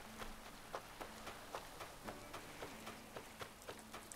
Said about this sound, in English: Kind of glad it's raining